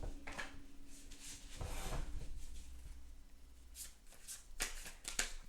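Rider-Waite tarot deck being shuffled by hand, with soft riffling card flutters and a few sharper slaps, quiet and close.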